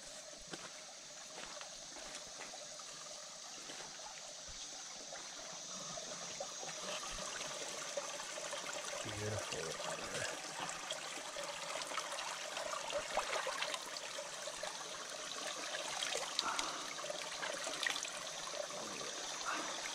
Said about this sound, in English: This is a spring-fed creek